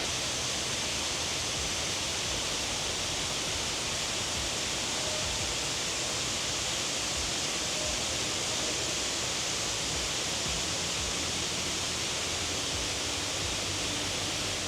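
A waterfall in a wooded trail area near Columbus, Ohio, a dense, steady rushing roar of falling water that fills the clip without pause or voices.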